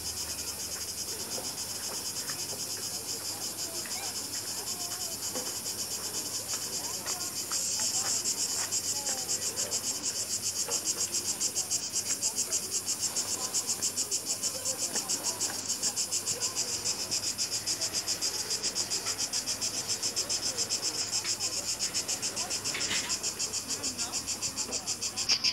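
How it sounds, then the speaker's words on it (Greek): Cicadas buzz without pause in the summer heat near Xigia beach on Zakynthos, a dense, continuous high-pitched drone that stays steady throughout and grows slightly louder partway through. "Ο Τζίτζικας φυρίζει ασταμάτητα."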